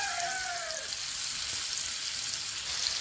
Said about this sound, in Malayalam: എണ്ണ ചൂടായി ഇനി മീൻ ഇട്ട് കൊടുക്കുക